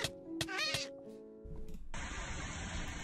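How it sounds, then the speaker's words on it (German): A cat meows a few times up close, short plaintive calls, followed by a steady hiss of background noise. "Kleine Katze."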